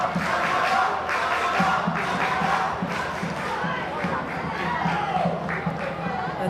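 Home supporters at a Brisbane Roar versus Canberra United A-League football match roar in a sustained, dense crowd swell with rising shouts, loud and continuous throughout.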